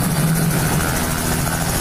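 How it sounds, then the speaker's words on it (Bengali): Loud, close helicopter rotor and engine roar fills the moment as it takes off from a school ground in Tangail, a steady thudding drone with no clear voices. "হেলিকপ্টার কিন্তু উঠছে। দেখানোর চেষ্টা করে আপনাদের"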